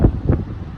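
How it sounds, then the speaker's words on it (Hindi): Wind buffeting through an open car window in April, two low rumbling gusts up close and then a softer steady rush, with no talking. "मस्त हवा चल रही है"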